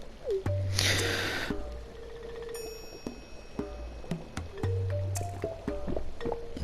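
A Stardew Valley character drinks a potion, with squishy, gurgling liquid sounds and short tonal game blips over soft background music, loud and alone without speech.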